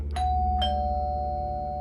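Doorbell rings twice in quick succession, a bright ding-dong tone that lingers, heard alone over a low hum in a quiet home at night.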